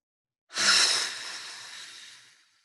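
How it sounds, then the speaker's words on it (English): A single deep breath drawn in during a guided visualization, a close, airy hiss that rises quickly and then slowly fades out over about two seconds, alone in silence. "We're going to take that breath in now."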